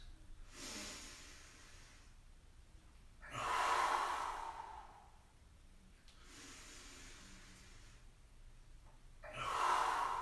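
Slow, audible breathing during a yoga exercise: long airy inhales and exhales rise and fall, with two louder, forceful breaths standing out, close and unaccompanied by talk.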